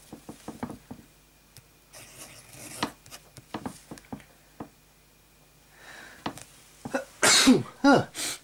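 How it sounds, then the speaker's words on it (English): A single loud sneeze bursts out near the end after quiet rustling and scratching sounds, close to the listener in an indoor space where fountain pen ink is being tested. "I had to sneeze."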